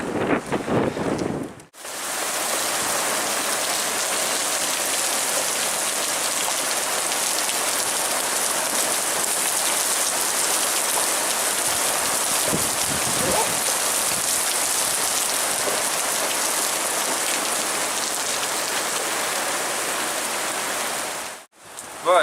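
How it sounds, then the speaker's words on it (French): Rain falls steadily during a thunderstorm with fine hail on a mountain hike, a continuous dense patter on a tarp close by, with a brief sharp knock partway through. "on est en train de se prendre la pluie tout doucement là"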